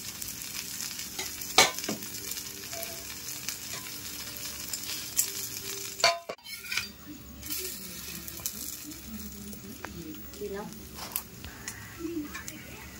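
A mung dal and mixed vegetable batter frying in a pan over low heat, a steady close sizzle with occasional scraping and clinks, while a person talks over it.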